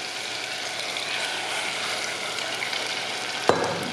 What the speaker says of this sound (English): As you hear the sizzling.